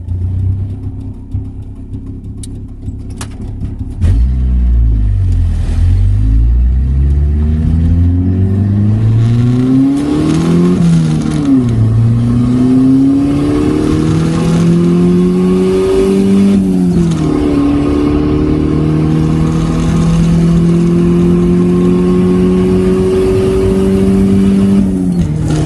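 A turbocharged Ford Probe pulls away hard in first gear on low boost. The loud, close engine climbs steeply through several revving surges with short dips at the shifts, then holds a steady high drone.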